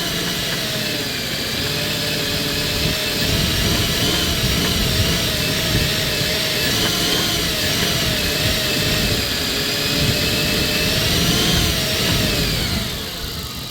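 A 1997 Dodge Caravan engine idles steadily on five cylinders with a missing plug wire, a rough, continuous mid-pitched drone with faint uneven pulsing, close and loud, dropping away at the very end.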